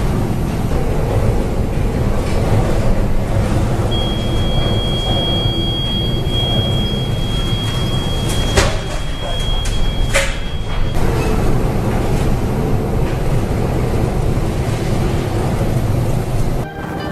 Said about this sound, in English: A cargo ship is struggling with giant waves in the rough sea of northern China.